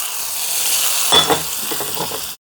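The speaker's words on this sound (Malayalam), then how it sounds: "കറിവേപ്പില, വറ്റൽമുളക്, വറവെല്ലാം കൂടെ കറിയിലോട്ട് അങ്ങിടുക" Shallots, curry leaves and dried chillies fried in hot oil are poured into a drumstick curry, a bright steady sizzle swelling into a sharp burst and crackle, then dying away.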